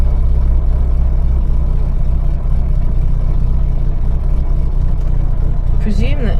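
A Triumph Herald Estate's engine runs steadily at idle, a low continuous rumble throughout with a voice speaking briefly near the end.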